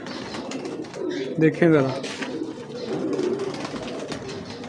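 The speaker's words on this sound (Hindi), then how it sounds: "तो ये भाई के कबूतर थे" Pet pigeons of the Taddy, Golden and Salkoti gulatu kinds coo softly in a loft area, a low throaty murmur under a man's nearby speech, with one clearer burst of calls midway.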